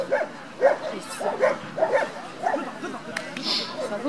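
A dog barks in short repeated bursts at a steady rhythm during a dog training session, fairly close, with a voice talking over it.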